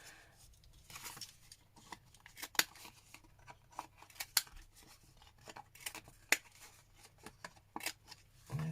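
Scissors snip at the corners of embossed card paper in a series of sharp, close cuts scattered irregularly over a quiet background, with light rustling of the paper between snips.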